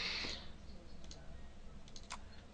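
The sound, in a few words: computer mouse double click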